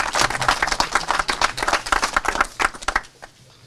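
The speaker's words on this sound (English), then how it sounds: "Let's give everyone a nice round of applause there." A small crowd at a public works department ribbon-cutting ceremony in Middleborough claps close by. The quick, crisp handclaps overlap for about three seconds, then stop abruptly.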